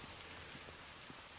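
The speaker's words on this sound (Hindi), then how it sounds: "बारिश हो रही है।" Steady rain falls outdoors, a soft continuous patter with scattered droplet hits, fairly faint and without voices.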